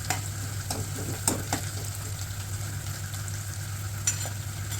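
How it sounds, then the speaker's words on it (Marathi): Onions fry in a pan for mutton masala under a constant close sizzle. A few scraping stirs cut through, with a couple of sharper strokes spaced out across the clip. "कांदा चांगला लाल होईपर्यंत परतावा."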